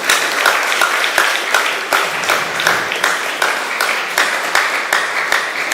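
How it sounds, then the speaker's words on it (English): An audience at a mentorship session gives sustained applause, a dense steady patter of many hands clapping together, loud and continuous with no talk over it. "So shall we give her a big round of applause?"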